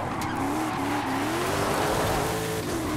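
Hyundai Elantra drifting in Forza Horizon 5, a loud continuous tire squeal that wavers in pitch over a steady engine roar, close and sustained for the whole stretch.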